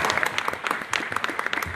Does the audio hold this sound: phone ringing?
no